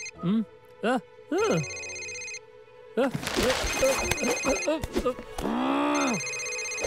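A telephone rings in a library in short repeated bursts, then people talk loudly over more ringing before a final ring.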